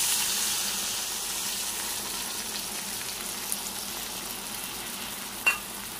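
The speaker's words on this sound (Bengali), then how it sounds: "তো চলো ভালো করে নেড়ে নিই পোস্তটাকে" Poppy seed paste fries and gets stirred in a pan, a soft steady sizzle with faint scraping and one short clink near the end, no voices.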